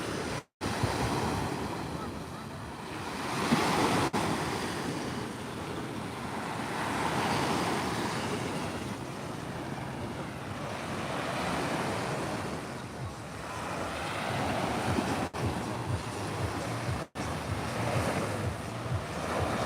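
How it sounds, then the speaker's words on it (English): Ocean waves washing onto a sandy beach, rolling surges rising and falling every few seconds, mixed with heavy wind buffeting the microphone and a few sharp dropouts. "I'm just out here walking on the sand."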